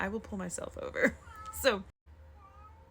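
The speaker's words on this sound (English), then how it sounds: "I'm sorry if you can hear my cat in the background. She's meowing." A pet cat meows indoors a few times in the background, short tonal cries mixed in under a person talking throughout.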